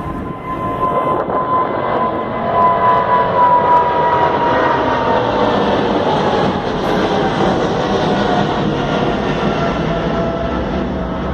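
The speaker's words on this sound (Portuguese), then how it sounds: "Olha o avião subindo aqui" Loud, steady engine roar of an airplane climbing after takeoff from Heathrow Airport, a continuous broadband rumble filling the whole stretch with no talking.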